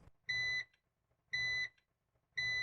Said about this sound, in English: there is a beeping alarm which constantly beeps, reminding you that you are still running on battery